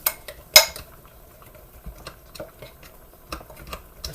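Chayote chowder with sour cream stirred in a pot without a spatula, giving scattered light clinks and scrapes of a utensil against the pot, one sharper clank near the start, otherwise quiet.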